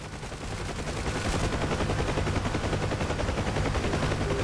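Sustained, steady automatic gunfire from door gunners aboard a Huey helicopter in DCS World, a dense continuous rattle over the helicopter's background drone, with no talk.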